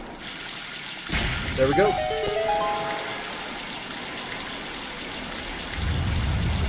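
Water rushing and splashing from a newly unblocked spring in Zelda: The Wind Waker on Dragon Roost Island, a steady trickling stream under a brief spoken line, growing louder toward the end.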